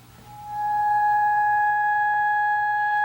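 Steady pure test tone from a loudspeaker in a 1964 classroom science demonstration, switching on after a faint moment and holding loud and unbroken, with a fainter higher tone alongside.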